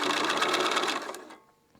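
A sewing machine stitches quilt half-square triangles in a fast, even whirring run, close and fairly loud, then slows and stops with a few faint mechanical clicks as the fabric settles.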